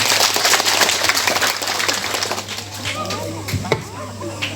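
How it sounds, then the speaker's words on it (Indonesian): Applause from a Catholic congregation at a Holy Saturday service. The clapping is loud at first and thins into scattered claps, with a steady low hum underneath and some voices mixed in. "Tepuk tangan untuk kita semua."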